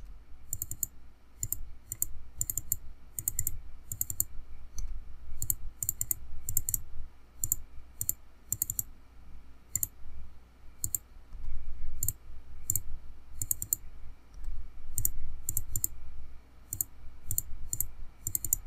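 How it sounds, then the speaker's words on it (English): Rapid bursts of computer mouse clicking recur through a quiet room during Creo Parametric 7.0 CAD work, sharp close clicks in irregular clusters over a low steady hum, with no talking. "You could hear me how many times I'm clicking on this"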